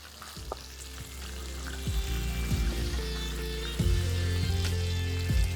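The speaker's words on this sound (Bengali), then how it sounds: "তারপরে এটাকে আমি আপনাদের ফ্রাই করে দেখাচ্ছি" Chicken pakora frying in very hot oil over a high flame, a steady close sizzle with bursts of bubbling as pieces drop in and are stirred, no talking.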